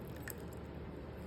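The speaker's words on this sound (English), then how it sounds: "We got 2 8-ounce cans of tomato sauce that we're gonna pour into that." Two 8-ounce cans of tomato sauce poured into a pan over minced garlic, giving a thick, wet, continuous squishing glug that stays steady and close throughout, with no talking.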